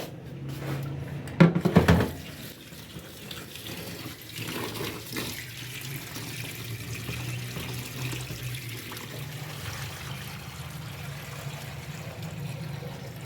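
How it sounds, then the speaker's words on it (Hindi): Rice is washed under a running kitchen tap, giving a steady stream of water with a sharp splash and clatter of a pot early on. Soft handling noises follow over the continuing flow. "सबसे पहले अम्मी चावल जो है वो धोएगी।"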